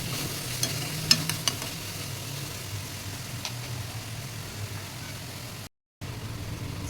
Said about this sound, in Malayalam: അപ്പം ടൊമാറ്റോ അങ്ങോട്ട് നമുക്ക് ഇട്ട് കൊടുക്കാം. അത് രണ്ടും കൂടി നന്നായിട്ട് കിടന്നൊന്ന് ഫ്രൈ ആവട്ടെ.